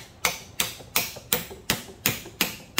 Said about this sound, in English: again, take my hammer